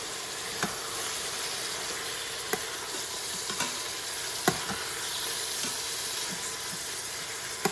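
Cajun-style venison sausage browns in a pan with a constant, even sizzle and hiss, punctuated by a few faint ticks and pops, close but moderately quiet and without talk.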